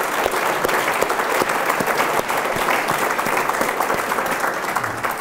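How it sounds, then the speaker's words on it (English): Dinner audience applauding at a lecture event, a dense steady wash of many hands clapping, loud and sustained throughout with a few sharper claps standing out. "I would like everyone to give a big clap of applause"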